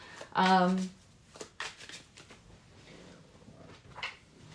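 Rider-Waite tarot deck being shuffled by hand, a soft brief riffle of cards up close, with quiet talking around it.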